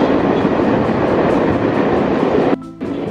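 Shridham Express passenger train running at speed, a loud steady rumble and rush of wheels and wind throughout, briefly dipping near the end as the sound changes.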